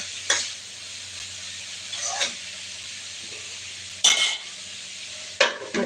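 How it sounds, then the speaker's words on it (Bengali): A vegetable fry is stirred in a pan with four distinct scraping strokes of a spoon against metal, spaced a second or two apart, over a quiet low sizzle. "তো এই পাশের তরকারিটা একটু নেড়ে দেই"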